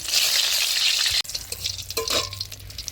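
Dried red chillies hit hot oil in a heated kadai with a loud, bright sizzle that cuts off abruptly, followed by quieter crackling and a few clinking stirs.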